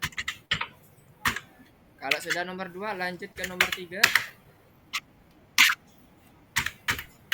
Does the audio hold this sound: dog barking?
no